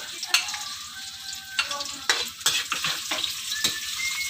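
Garlic frying in a pan with a steady bright sizzle, punctuated by several sharp scrapes and clinks of a spoon against the pan, close and clear over a low background hum.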